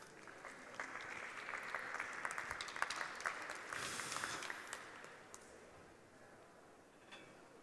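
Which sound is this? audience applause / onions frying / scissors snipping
audience applause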